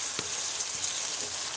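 Curry leaves, tomatoes, ginger, garlic, onions and whole spices sizzling over high heat in a pan for a meat and potato curry, a steady close hiss with a couple of faint stirring knocks.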